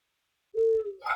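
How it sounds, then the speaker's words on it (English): A single recorded bird call sounds as an hourly alarm, one clear sustained hooting note followed by a brief softer chirp, close and isolated against silence. "you may hear the birds in the background, which is my little alarm to remind me of the top of the hour."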